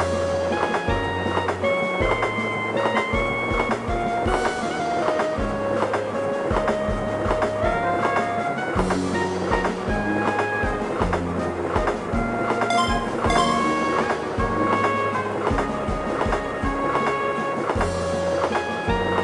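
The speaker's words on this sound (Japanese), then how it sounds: "まもなく列車が参ります。" An E261 series Saphir Odoriko train arriving at a station rolls steadily with rhythmic clattering of wheels over rail joints and metallic squeals, continuous and fairly close, no voices.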